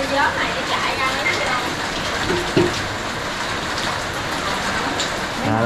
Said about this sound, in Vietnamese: đang ngủ nghe, nghe con mưa mưa